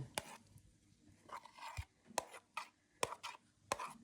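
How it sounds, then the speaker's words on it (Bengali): Chillies and yard-long beans being crushed by hand, a series of sharp, close knocks and crunching pounds at an uneven rhythm, quiet with short gaps between strikes. "এখন দিয়ে দিব বরবটি আর থেতলাই নিব"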